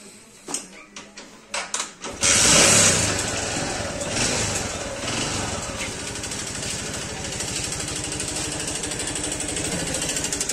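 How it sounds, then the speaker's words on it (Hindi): A TVS Sport motorcycle engine starts after a few short cranking bursts, then runs steadily with a rough, rattling, abnormal mechanical noise, loud and close throughout. "जैसे कि आप देख सकते हैं कि गाड़ी की आवाज़ कितनी बुरी आवाज़ है।"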